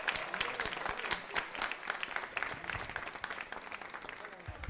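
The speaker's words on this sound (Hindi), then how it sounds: "तालियां तो बजती रहनी चाहिए साथ तीनों बच्चों के लिए" Audience at a Diwali quiz show clapping for three children, steady brisk applause heard faintly and continuously under the scene.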